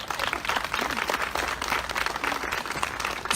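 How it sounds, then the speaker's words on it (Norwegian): Audience applause for event sponsors at a Stavanger gathering, a dense, steady wash of clapping that holds for the full few seconds without pauses. "Jeg synes alle de som har bidratt som sponsorer fortjener også en applaus."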